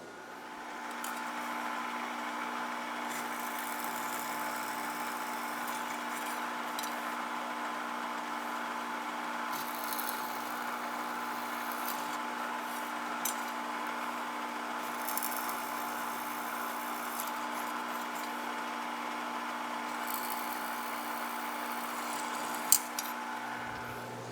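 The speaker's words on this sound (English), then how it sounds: "So I'm going to drill all the pilot holes first, and then come back and do the hole saw." Steady, continuous whine of a power drill drilling pilot holes in metal frame panels of a Case 1840 skid steer, running without pause, a sharp clack near the end.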